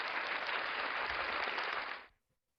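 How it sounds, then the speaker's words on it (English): A conference audience at the Northern Luzon regional gathering gives a round of applause for a guest engineer speaker; loud, dense clapping for about two seconds, then stopping abruptly into silence. "let's give a round of applause to our beloved resource speaker, Engineer Florencio Di Berengel."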